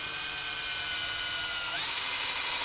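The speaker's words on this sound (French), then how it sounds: "Et on va percer comme ça, légèrement penché en bas pour que ça s'écoule facilement" A power drill boring a tap hole into a birch tree for sap collection in Burgundy, a steady high whine held close up for the whole stretch, shifting pitch slightly as the bit bites deeper, with no talking.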